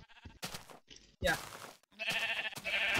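Minecraft sheep bleat in a few short bursts with gaps between them, close and fairly loud, the later calls longer and more sustained, while voices chatter around them.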